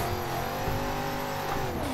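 BMW E92 car at a drift event, engine loud and close with a steady strained roar and a hint of tire noise, no talking.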